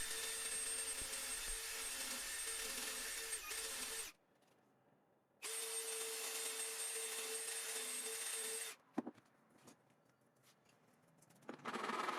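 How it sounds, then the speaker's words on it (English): A power drill whirs loudly in two long bursts separated by quiet gaps, driving screws into a wooden miter saw fence, followed by softer scraping and handling noises. "drill and attach the screws."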